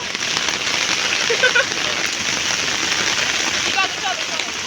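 Heavy rain pours down in a dense, continuous hiss, close and loud, with no letup across the stretch.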